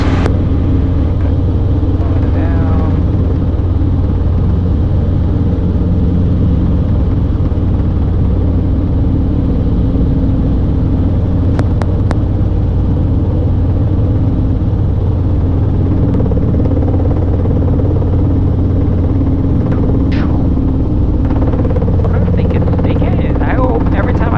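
Robinson R22 helicopter in flight during a flight lesson: a steady, loud engine and rotor drone fills the whole stretch, with radio chatter and voices heard over it.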